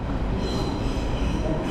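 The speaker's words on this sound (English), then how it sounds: "Here's an ODEG regional express train, most likely bound for Frankfurt on the Oder." An ODEG regional express train rumbles past at a station on the line toward Frankfurt (Oder), a steady, loud, broadband roar with faint wheel squeal and no voices.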